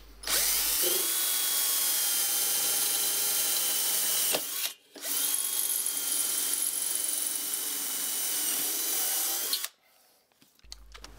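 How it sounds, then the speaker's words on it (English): A power drill bores pilot holes into the bed of a cheap homemade wood lathe, whining steadily and loudly for about four seconds, then pausing briefly before a second long continuous run that stops abruptly near the end. "Finish drilling the pilot holes with a new drill bit."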